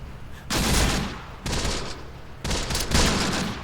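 Bursts of gunfire from a BAR team in the Close Combat: The Bloody First urban warfare video game, three heavy overlapping volleys of rapid shots in quick succession, loud and close with no talking.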